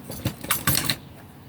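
Pinking shears for sewing crunch through fabric in a few quick, close snips, each cut a short crisp burst, with no voices.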